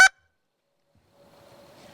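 A hunter blows a goose call, giving a single short, sharp honk at the very start, followed by near silence and a faint tail of sound.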